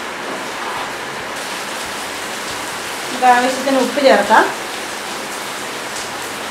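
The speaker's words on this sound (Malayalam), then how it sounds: "വെളിയിൽ മഴ തകർത്ത് പെയ്യുന്നുണ്ട്." Heavy rain pours outside a kitchen where catfish curry is being cooked, a steady broadband hiss running throughout while a voice speaks briefly in the middle.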